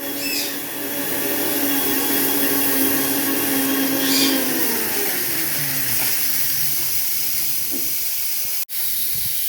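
Kitchen mixer grinder running with cumin and spices for idli sambar paste, giving a loud continuous whirring hiss that holds steady, then slows and winds down before a brief click.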